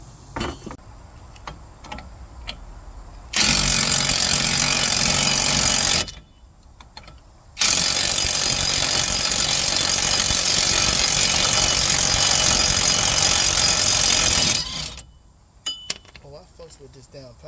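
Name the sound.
power tool used during axle and brake job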